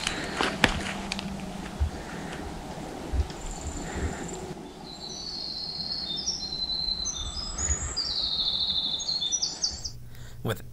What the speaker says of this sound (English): Love the sound of birds.